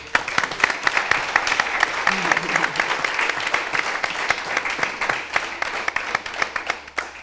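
Sustained audience applause at a Spanish hockey federation centenary event in Valencia, dense and steady clapping that fills the room for the whole stretch, with a brief murmur of voices partway through.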